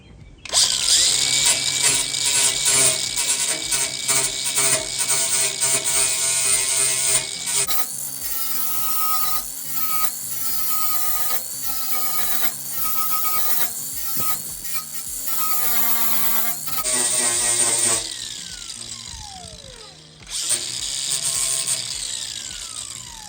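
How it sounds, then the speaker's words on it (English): An angle grinder with a 120 grit flap disc works a Miata fender, its loud, close whine shifting in pitch as the disc bites and eases off the metal. The grinding comes in several long bursts with brief pauses and spin-downs between. "change to a 120 grit flap disc"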